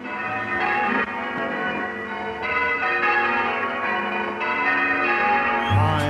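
Church bells ring continuously with rich, layered overtones, a steady sustained peal heard close and loud with no voices.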